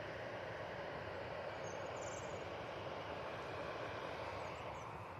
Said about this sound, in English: concentrate on the taxi of this Etihad now. 777-300ER going back off to Abu Dhabi.